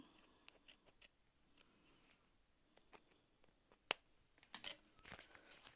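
Scissors snip and trim quilted fabric near a bag zipper while sewing a crossbody pack, giving quiet, scattered cuts and crinkles with a couple of sharper snips toward the end.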